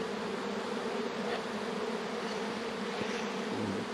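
Bees buzz around a cut-open bee tree, a dense continuous hum of many insects close by, with individual bees swelling louder as they pass near the microphone.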